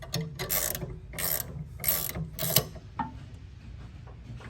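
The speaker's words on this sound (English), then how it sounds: "So I'm gonna snug up my bottom bolt first." A wrench ratchets while snugging the bottom mounting bolt on a new 25hp Suzuki outboard, giving four quick bursts of clicking at a steady rhythm, then a quieter stretch with faint handling noise.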